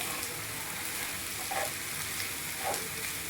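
Vegetables with carrot and ragi shavige stirred in a hot pan, a steady close sizzle with occasional spoon scrapes and clinks against the pan, with no talking.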